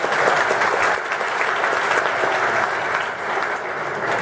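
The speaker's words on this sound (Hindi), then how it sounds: "एक ताली बजाओ, सुनते हैं किसकी।" Loud, dense clapping from a large student audience at a motivational talk, a continuous burst of many hands close by that holds steady for several seconds with no voices over it.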